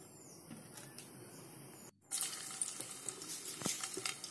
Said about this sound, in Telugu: ఎల్లుల్లిపాయలు వేసుకున్నాను, తర్వాత జీలకర్ర, కరివేపాకు, ఎండుమిర్చి యాడ్ చేశాను